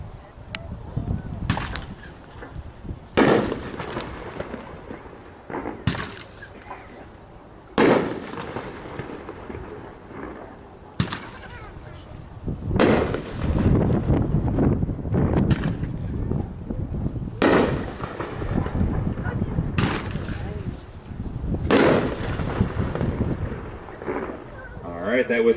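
A King 6-shot firework cake from a Chaos in the Kingdom assortment fires on a demo night, sharp booming launches and bursts spaced a few seconds apart over steady wind rumble, with people talking in the background.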